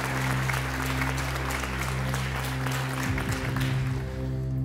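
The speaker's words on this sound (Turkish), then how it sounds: "Alkışlarınız Muhammed Adil Al-Saidi için gelsin." Audience applause at a Quran recitation competition broadcast, steady dense clapping throughout with sustained musical tones underneath that shift partway through, no speech.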